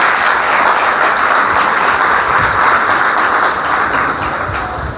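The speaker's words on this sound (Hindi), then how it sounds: "आए हम सब तालियां बजाएं" A church congregation applauds continuously during a Sunday service, a dense, loud wash of clapping that holds steady and eases slightly near the end.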